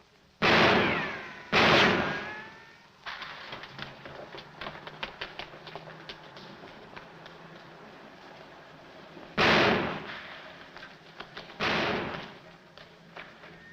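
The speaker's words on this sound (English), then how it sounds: "Hey, stop or I'll shoot!" Gunfire in an old film noir romantic comedy: two loud close shots open the scene, then scattered sharp cracks and thuds, followed later by two more heavy bangs, with no talk.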